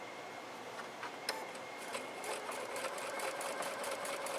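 A sewing machine stitches fabric for a bowl cozy in quick light ticking bursts, fairly faint and close, running steadily with brief pauses.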